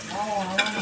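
Spices stir-fried in hot oil for a vegetable curry with sweet pumpkin and fish, a brief close sizzle with scraping stir strokes and one sharp clink of the spoon.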